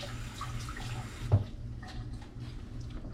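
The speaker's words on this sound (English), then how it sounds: "rinse my fingers off" Running kitchen tap water splashes softly over fingers being rinsed, a steady low wash with one brief louder splash near the middle, fairly faint and alone.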